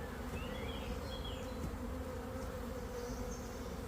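A honeybee swarm that has moved into stored hive equipment buzzes steadily around the boxes, a dense, even drone close by with no voices.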